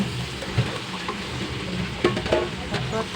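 Pork with onion, garlic and lemongrass sizzles steadily in hot oil while being stirred, with a few soft utensil scrapes and clicks over the constant frying hiss.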